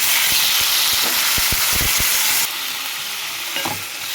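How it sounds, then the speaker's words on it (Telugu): Tomatoes and green chillies for tomato chutney fry in a pan with a loud, steady sizzle. A few stirring knocks come through early, and the hiss drops down a little halfway through. "అవి వేగిపోయిన తర్వాత టమాటాలు వేసేద్దామండి"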